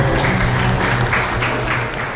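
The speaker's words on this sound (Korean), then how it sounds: "큰 박수 부탁드리겠습니다" Attendees at the opening of a Korean urban regeneration forum's general assembly applaud, a brief dense burst of many hands clapping, loud and close with a low room hum beneath.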